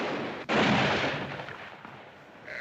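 A gunshot in a Western standoff, one sharp loud blast that rings out into a long rolling echo and fades over a couple of seconds, with no other sounds beside it.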